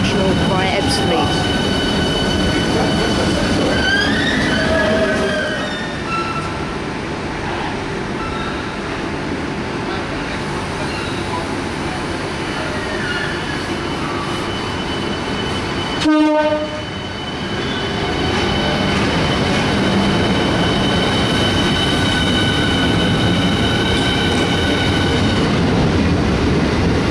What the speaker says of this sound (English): 395014 comes in on Platform 5 Ashford International